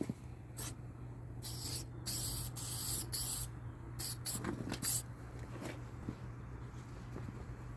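Short hissing bursts of Meguiar's headlight restoration spray hit a car headlight up close, coming in uneven clusters of quick sprays and pauses over a quiet background.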